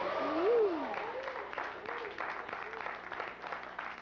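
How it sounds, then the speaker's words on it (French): An audience applauding a comedian at a stage show, a moderate patter of clapping running throughout while a voice speaks over it. "Ça applaudit moins fort"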